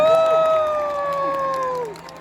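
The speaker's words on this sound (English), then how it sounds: "give her a round of applause" At a fan expo panel, a loud sustained whoop or cheer rings out above the crowd, with faint clapping and crowd noise beneath it, fading after about two seconds.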